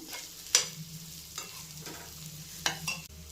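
Masala for a dried prawn and egg curry sizzles in a pan and is turned with a spoon, giving a few sharp scrapes and clinks over a low frying hiss.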